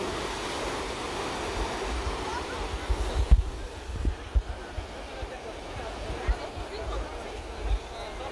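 Ocean surf roars steadily at a beach at Sunset Park in El Salvador, a continuous wash of breaking waves with wind buffeting the microphone and a few thumps, close and fairly loud.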